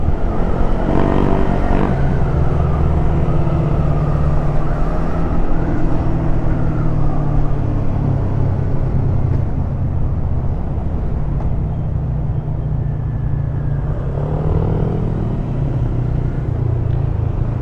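Bristol Assassin R400 manual motorcycle cruising in fourth gear, a steady, continuous engine drone and road rumble, loud and close, holding an even pace with slight swells in throttle throughout.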